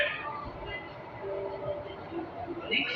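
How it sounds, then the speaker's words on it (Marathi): A metro train pulls in at a station platform, a low rolling rumble with a rising whine near the end, heard from a short distance amid faint background voices. "1 नंबर प्लॅटफॉर्मला गाडी आली, लवकरच आली."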